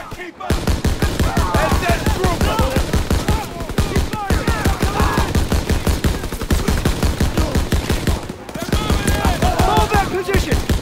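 Sustained rapid machine-gun fire in the Death Factory campaign of Call of Duty: WWII, loud and steady with only brief pauses, while shouted voices and battle noise mix in.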